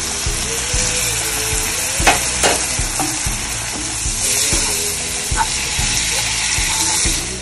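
Ground meat and parsley mixture sizzling loudly in a pan after a splash of water, with steady frying hiss and scraping stir strokes close by.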